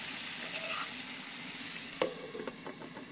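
Potatoes with rosemary sizzle steadily in a pan on a rocket stove outdoors, a soft continuous frying hiss with a couple of brief stirring knocks near the end.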